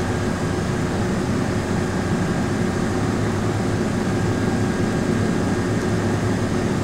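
A Douglas Super DC-3 R4D-8 with C-117D radial engines drones steadily as it rolls for takeoff in Microsoft Flight Simulator, a continuous loud engine roar at constant level with no voices.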